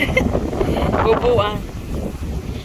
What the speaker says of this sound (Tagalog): sa sobrang hangin po